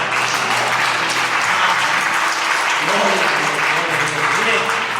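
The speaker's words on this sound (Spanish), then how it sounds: "Vamos a dar un fuerte aplauso." Church congregation at a Sunday service applauding loudly and steadily, a dense, continuous wash of clapping that fills the whole span, with a few voices faintly mixed in.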